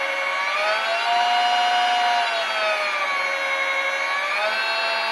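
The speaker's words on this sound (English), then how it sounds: "So yeah, that's my VHS lathe." A homemade lathe built from VHS player parts runs on a variable-voltage power supply, giving a steady, close motor whine with a slowly wavering pitch and a light rubbing hum throughout, with no one talking.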